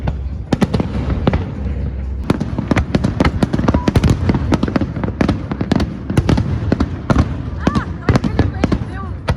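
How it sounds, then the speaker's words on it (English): Night fireworks over Sorrento, a dense run of sharp booming bursts and crackles, some close and loud, firing in rapid irregular succession with brief gaps, while people talk faintly underneath. "we're waiting for the fireworks. They go off at 11"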